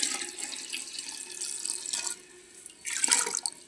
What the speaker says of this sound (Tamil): இனி அதுக்கு தேவையான தண்ணி நம்ம விட்டுக்கலாம்.